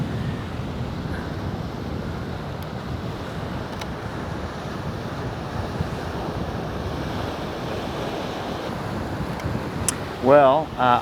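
Ocean waves crash against a cliff coast in a continuous roaring wash, mixed with wind buffeting the microphone, and a few louder bursts near the end.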